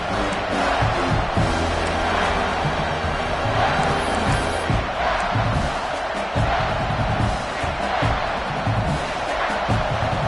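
A dense stadium crowd at an American football game roars continuously and loudly on third and goal, a steady wall of cheering and shouting with no breaks.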